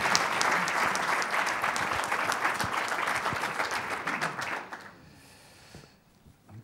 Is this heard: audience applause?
yes